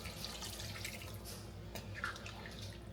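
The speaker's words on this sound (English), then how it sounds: "I'm going to add a little bit more water in here." Water pours steadily into a cooking pot of curry goat with potatoes and carrots, a continuous close splashing stream with no voices.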